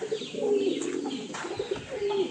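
A sick pigeon coos in soft, throaty warbles, repeated a few times close by, with faint chirps in the background.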